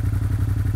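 A Yamaha MT-07 two-cylinder motorcycle engine running just after starting, a close, loud, even low throb with a fast pulsing beat and no other sounds.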